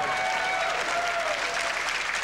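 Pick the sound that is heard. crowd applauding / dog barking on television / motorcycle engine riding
crowd applauding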